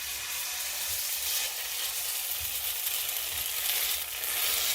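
Squash pancake batter frying in hot oil over medium heat, giving a dense, continuous sizzle with soft crackles throughout, close and alone without talk.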